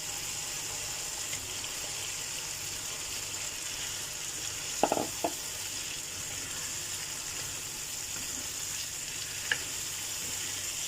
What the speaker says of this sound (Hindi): अभी 2 मिनट चिकन को फ्राई करना है इसी में।